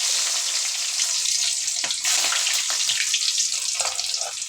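Fenugreek seeds and garlic sizzle steadily in hot oil, a loud, continuous hiss and crackle close by with occasional sharper pops, and no talking over it.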